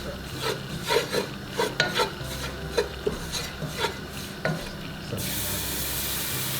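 Whipping cream being stirred into a pot of bechamel for macarona, with repeated scraping, rubbing strokes of a spoon against the pot at close range, followed by a steady sizzling hiss at the end.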